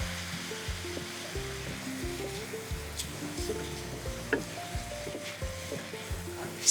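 A German meat sauce sizzles steadily in a pan just after a splash of white wine goes in, a close, even frying hiss with faint stirring scrapes and low background music.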